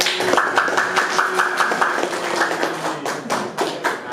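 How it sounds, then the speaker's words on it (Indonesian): Students in an Indonesian classroom give scattered, fairly loud applause after a group presentation, the claps fast and uneven and running for a few seconds without talk. "Berikan tepuk tangan yang meriah lagi dong"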